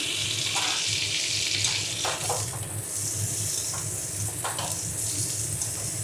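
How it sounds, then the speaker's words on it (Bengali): Chopped tomatoes go into potato and cauliflower frying in a pan for Bengali aloo phulkopi, giving a loud, steady sizzle with faint stirring that lasts throughout, and no one speaks. "আলু ফুলকপিটা ভালো করে ভাজা হয়ে গেছে, তাই এর মধ্যে কেটে রাখা টমেটোগুলো দিয়ে দেব।"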